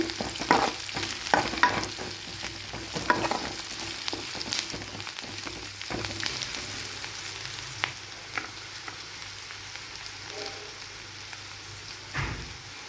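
Green chillies, coriander and turmeric fry in oil for a potato masala curry to go with dosa, a constant close sizzle with intermittent stirring scrapes and taps of a spoon against the pan.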